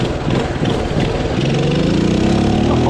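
A cheap $100 minibike engine roars close and loud at high revs, a steady buzzing drone that climbs slightly in pitch as it pulls, with no other sounds over it.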